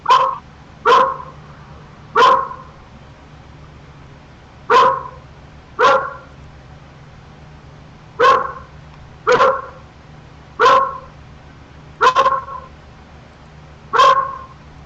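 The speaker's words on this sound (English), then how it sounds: "Whose dog was that?" A dog barks loudly and nearby in a repeated series of about a dozen sharp, evenly spaced barks.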